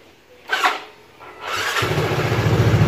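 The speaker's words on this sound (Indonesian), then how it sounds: "kita coba menyalakan mesinnya" A fuel-injected motorcycle engine cranks briefly, then catches and starts, settling into a steady, pulsing idle close by.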